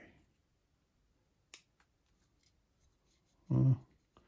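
Plastic part of a Revell 1/29 X-wing model kit being cut, a single sharp snip followed by a louder crisp cut a couple of seconds later in a quiet room.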